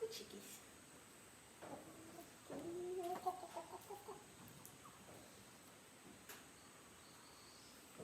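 Chickens cluck softly in short, scattered bursts, faint and somewhat distant over a quiet outdoor background with a light insect hum.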